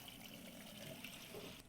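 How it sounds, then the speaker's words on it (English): Water runs steadily into a bowl of sliced green plantains and salt for soaking, a continuous soft splashing flow with no talking over it. "We're going to put water."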